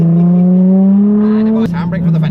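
A Nissan 350Z on a track, its engine note climbing steadily under load, then cut off abruptly by a gear change and settling lower, loud and close inside the cabin.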